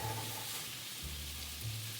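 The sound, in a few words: onions sizzling in olive oil and butter in frying pan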